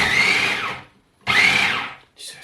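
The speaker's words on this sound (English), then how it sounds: "I'm going to use the old grating attachment on my food processor" A food processor fitted with a grating attachment shreds a 350g block of cheese. It gives two loud, close bursts of high whining motor noise, each about a second long, with a brief gap between them and a shorter burst starting at the end.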